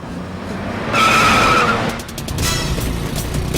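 A car in a movie chase squeezes through a narrow gap, with a sharp tire skid and squeal rising over the engine roar, then a steady motor rumble as it drives on.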